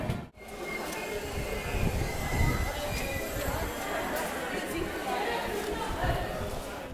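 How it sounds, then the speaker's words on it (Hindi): A passenger train pulls into an Indian railway station platform with a steady low rumble of wheels and carriages, faint squeals on top, while crowd chatter and a voice carry over it throughout. "बट देखिए ट्रेन आ गई आपके सामने।"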